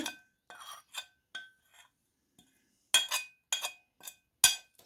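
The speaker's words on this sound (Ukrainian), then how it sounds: "все ретельно поєдную. А так, поєдную за допомогою вилочки." A fork clinks against a bowl while mixing hake fish cutlet mixture with grated potato, carrot, onion, garlic, semolina and flour, giving a run of short, irregular close-up scrapes and taps with a brief pause in the middle.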